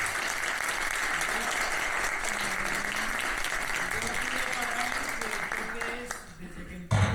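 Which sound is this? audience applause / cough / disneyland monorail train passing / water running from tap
audience applause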